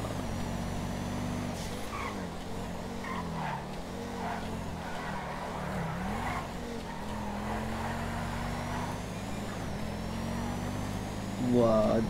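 Lamborghini Aventador engine in a racing video game, a sustained high revving drone with rising and falling pitch as gears shift, under a voice talking.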